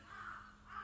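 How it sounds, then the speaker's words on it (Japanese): A crow cawing in the distance, two faint, drawn-out calls separated by a brief gap, quiet against a low background hum. "あ、カラスが鳴いてますね"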